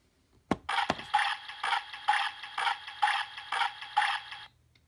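A toy washing machine from a Littlest Pet Shop house plays a mechanical sound effect, a rapid run of about eight rhythmic whirring pulses, close and fairly loud, preceded by two sharp clicks from pressing it.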